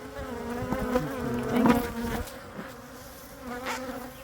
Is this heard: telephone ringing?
no